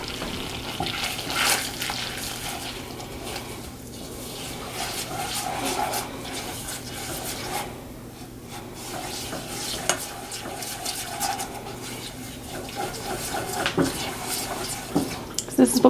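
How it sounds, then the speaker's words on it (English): A cup of brown sugar being mixed into a butterbeer mixture, soft scraping and swishing strokes close by, irregular and quiet, with occasional light clinks of the utensil against the pot. "4th cup of brown sugar going in. Let's go ahead and give that a mix."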